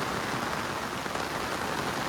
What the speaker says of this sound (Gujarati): એવો વરસાદ પડે છે ને એવો વરસાદ પડે છે